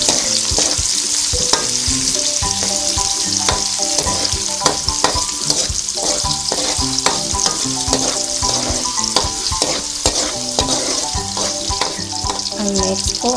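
Red onion and garlic fry in a pan, a steady close sizzle broken by frequent stirring scrapes and knocks of a utensil against the pan, with no talking.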